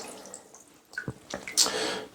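Water sprays from the nozzle of a LUXE Bidet 185 Plus toilet attachment with adjustable pressure, beginning as a few scattered drips and splashes and then hissing into a stronger, continuous jet toward the end.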